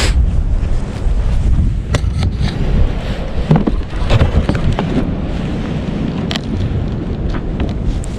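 Strong wind gusting across a campsite at Pilot Knob State Park, a loud, steady roar buffeting the microphone with rushing, surging noise throughout and no talk.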